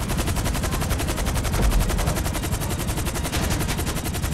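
Heavy automatic gunfire from a big gun in the video game IT, a rapid, continuous stream of loud shots that rattles without pause for the whole stretch.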